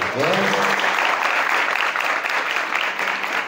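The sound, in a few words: audience applause at school seminar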